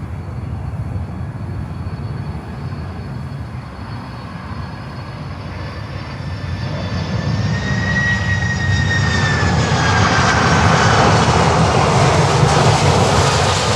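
A passenger jet airliner at Miami Airport roars steadily, its engine noise building louder over the span while high whining tones glide and bend above the rumble, with no voices.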